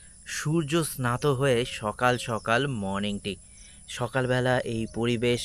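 Crickets at a rural resort near Kolkata keep up a steady, high, unbroken chirring in the background while a person talks over it in the morning.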